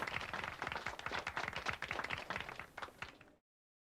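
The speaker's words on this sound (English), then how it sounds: "A lazy applause fills the room." Sparse, lazy applause from a small room crowd in the video game Disco Elysium, a few hands clapping unevenly for about three seconds before stopping abruptly.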